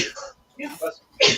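A single sharp sneeze bursts out at the end, loud and close, after a brief spoken word and some breathy throat sounds.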